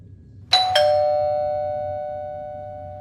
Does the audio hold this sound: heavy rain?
no